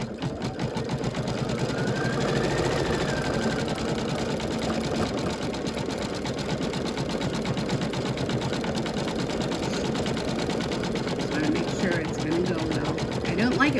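An embroidery machine stitches at high speed, a continuous rapid mechanical chatter and hum that runs steadily for nearly fourteen seconds at moderate volume, with a voice talking now and then over it.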